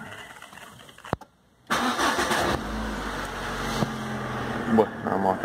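A Citroen Xsara Picasso engine cranks after a brief click and silence, catches loudly, then settles into a steady idle with a voice speaking briefly over it.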